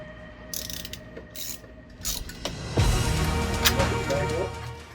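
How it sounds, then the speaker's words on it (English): Ratchet driving screws back into a fuel line fitting on an Audi, with scattered clicks at first and then a close, steady run of rapid pawl clicking that continues to the end. "Then I could finally put the screws back in."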